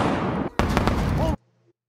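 A firecracker bang filmed by a stationary camera: sharp, crackling bursts follow a rough, noisy stretch, then the sound cuts off abruptly into near silence.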